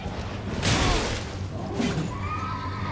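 A horse in the Elden Ring video game whinnies sharply after taking damage, two loud close neighs with impact thuds and combat effects around them.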